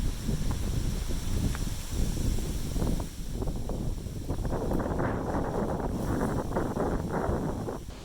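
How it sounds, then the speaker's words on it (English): Gusty wind roars and buffets the microphone continuously, with rustling rising and falling in waves; no speech. "It's getting pretty windy now."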